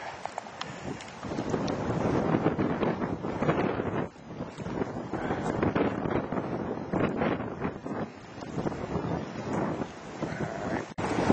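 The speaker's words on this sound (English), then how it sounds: "He said this wind is real bad out here today." Strong wind buffets the microphone on a fishing boat out on open water, a loud, steady roaring rush that gusts and dips throughout with no talking.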